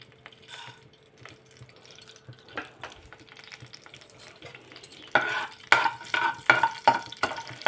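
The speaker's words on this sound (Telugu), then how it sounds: "ఇప్పుడైతే మనము తాలింపు గింజలు వేసుకుందామండి." Mustard-type tempering seeds hit hot oil in a home kitchen pan, starting with quiet scattered crackles and then breaking into louder, rapid popping and sizzling bursts in the final seconds, with no talking.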